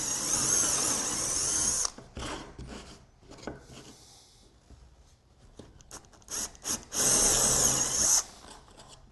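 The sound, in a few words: drill drilling through stacked triangles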